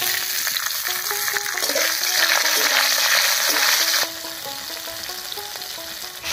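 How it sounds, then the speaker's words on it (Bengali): Slit green chillies sizzle in hot mustard oil already holding dried red chillies, bay leaf and whole cumin, a loud crackling fry with stirring clatter that eases to a quieter sizzle partway through, no speech. "এই তেলের মধ্যেই দিয়ে দিচ্ছি চেরা কাঁচা লঙ্কা।"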